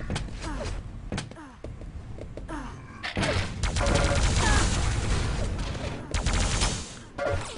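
Rapid bursts of plasma gun fire in a competitive arena shooter match, dense overlapping volleys and impacts on a spawn point, loud and continuous with short pauses between salvos.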